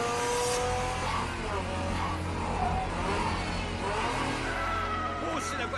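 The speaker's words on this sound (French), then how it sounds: "Oh, c'est la voiture du jeune Takahashi!" A car engine revs in the Initial D anime, belonging to Takahashi, a steady loud mechanical drone with rising and falling pitch over several seconds as the car passes, under background voices.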